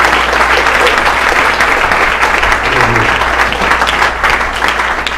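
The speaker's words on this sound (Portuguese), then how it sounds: "Vamos dar uma salva de palmas para ele." A church congregation at a worship service claps together, a loud, dense, sustained round of applause that keeps going throughout.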